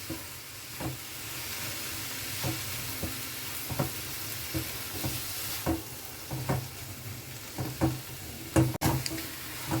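Fish and red amaranth greens fry in a pan under a continuous hiss and sizzle. Repeated stirring knocks and scrapes break through it, with a sharper clack near the end.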